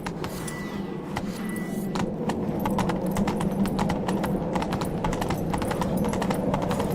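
A horse gallops in The Witcher 3, a steady rapid clip-clop of hooves over a continuous low rumble, close and sustained throughout without a break.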